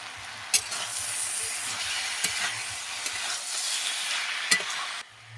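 Cabbage stir-frying with spices in oil makes a steady, fairly quiet sizzle broken by a few sharp spatula taps against the pan, cutting off just before the end.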